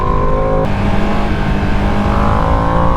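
A 2025 Ducati Panigale V2S motorcycle on a race track, its engine roaring loud and steady at high revs for the whole stretch, with a gear change near the start and no voices.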